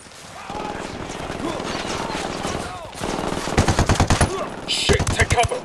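Gunfire in the video game Ghost Recon Wildlands: bursts of automatic weapon fire over steady background game sound, growing louder and denser toward the end with rapid, repeated shots.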